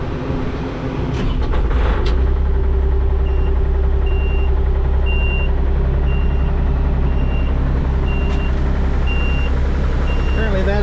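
New mini excavator engine cranking and starting with a low steady diesel rumble, while a high warning beep repeats at regular intervals over it; a voice speaks briefly.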